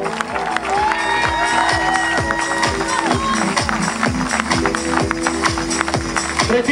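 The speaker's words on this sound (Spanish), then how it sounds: "Fuerte el aplauso" Outdoor marathon awards ceremony crowd applauding a running legend, a broad layer of clapping and cheering over a rhythmic tapping beat and amplified music, busy and moderately loud.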